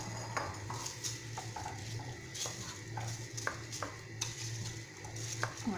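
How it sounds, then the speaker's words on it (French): Rice being stirred for paella in a pan, with repeated light scraping and tapping of a utensil against the metal at an irregular rhythm, close by over a low steady background hum. "Je mélange."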